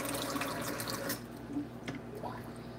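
Tap water running and splashing into a sink or container as it is refilled for doll work, a steady close wash of flowing water with a few drips toward the end, no talking.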